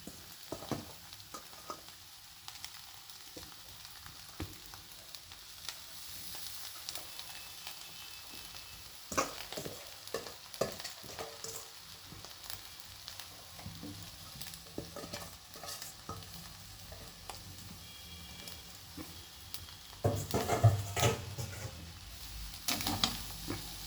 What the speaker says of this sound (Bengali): বাসি ভাত, কালকের ভাত, একদম ঝরঝরে ভাত আমি এর মধ্যে মিশিয়ে দিচ্ছি